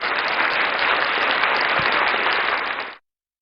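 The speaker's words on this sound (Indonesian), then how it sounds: "kasih tepuk tangan dong" A church congregation claps together in a steady, dense burst of applause lasting about three seconds before it cuts off abruptly.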